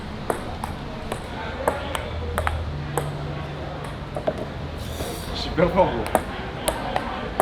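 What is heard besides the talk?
ping-pong ball being hit in a table tennis game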